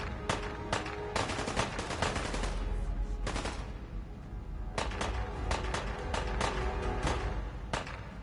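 Submachine gun in Fallout 4 firing several quick bursts of rapid, crackling automatic shots, with a gap between volleys and steady game ambience underneath.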